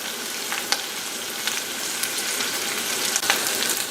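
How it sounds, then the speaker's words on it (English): Shrimp sizzle and crackle steadily in a hot pan, with scattered sharp pops over a constant frying hiss. "you can hear that snap, crack, and pop. That means we're cooking away here."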